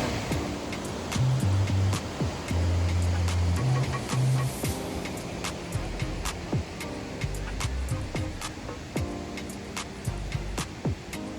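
Pancada Grande waterfall in Bahia, Brazil, heard from the top of the falls: a steady, broad roar of rushing water runs throughout, with faint low tonal sounds mixed in.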